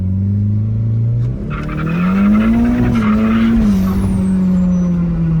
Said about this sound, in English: We're gonna give it a quick initiation, see if it'll break loose at all, just in first gear.